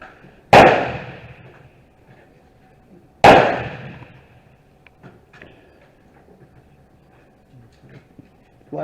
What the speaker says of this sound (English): Last shots with the 45-70 Cadet, 50 yards, using Kentucky elevation.